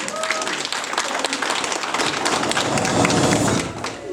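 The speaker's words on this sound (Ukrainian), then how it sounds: "Тож привітаємо всіх їх вдячними оплесками." An audience at a school celebration applauds the teachers with thick, continuous clapping and scattered thumps, swelling loudest near the end before easing off.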